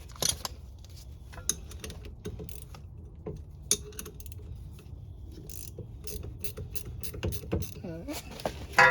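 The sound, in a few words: unbolting rear brake caliper parts on a 2002 Audi TT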